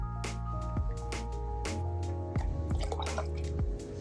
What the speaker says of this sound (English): Then we need 15 ml of fresh lemon juice.